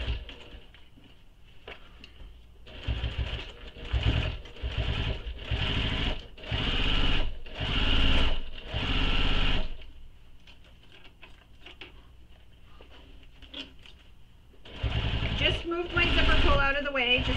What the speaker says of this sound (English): we're going to top stitch straight across that edge